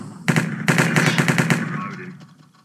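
Rapid bursts of M4 rifle fire from a cops-and-criminals video game, loud and close, with a short pause and then a long stuttering volley that trails off into quieter clatter.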